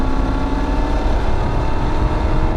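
Used fifth-generation Maserati Quattroporte engine revving loud and close, a dense continuous rumbling roar held steady for a couple of seconds.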